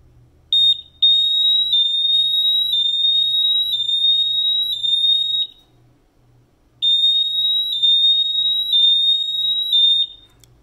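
GMI PS500 gas detector alarm during a bump test: a loud, close, rapid electronic beeping tone that runs for several seconds, stops briefly, then resumes.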